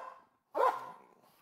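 One sharp bark from a dog at a bite demonstration, a single loud close bark after a short pause, with a fading tail and faint sound before it.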